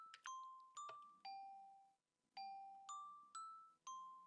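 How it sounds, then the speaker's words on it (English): Minecraft note block set to bell tones from a gold block, a series of about eight clear bright chimes struck one after another in a lively melodic pattern, each ringing and decaying quickly, alone with no talk. "Then we have a block of gold, which is the bells, as I showed earlier."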